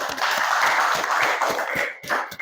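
A classroom of students clapping together in a steady, dense burst of applause, with a few louder individual claps standing out over about two seconds.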